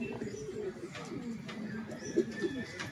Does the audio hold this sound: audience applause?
no